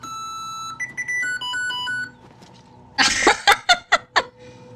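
Electronic beeps and blips from the video game Oblivion Remastered, a quick series of tonal bleeps stepping through different pitches, followed by bursts of noisy, giggle-like sound near the end.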